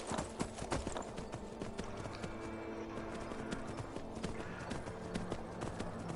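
Horse hooves clip-clopping at a steady galloping rhythm in a Skyrim-style fantasy video game, loud and continuous over game music and ambience with an occasional faint whinny.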